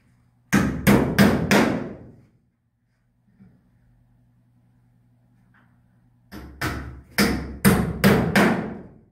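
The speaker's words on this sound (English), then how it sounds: "We're going to nail it in place with a couple of roofing nails." A hammer drives roofing nails through window flashing in two quick bursts of about four to five sharp, close strikes each, separated by a few seconds of quiet.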